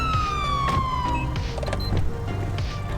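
A police car siren in GTA V, running with the LSPDFR mod, sounds at first with a wailing tone that slides downward and fades out, while someone talks over it.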